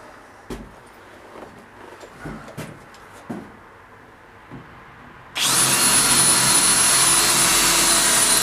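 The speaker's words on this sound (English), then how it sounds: "Now put a couple screws in." A power drill drives screws into a truck camper build, a sudden loud, steady whine that kicks in after several seconds of quiet clicks and knocks and then holds without pause to the end.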